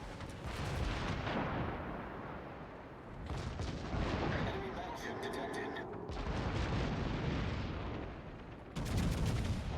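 Naval guns firing in World of Warships, heavy booming salvos rolling through several long bursts, loud and close, with a voice faintly under the blasts.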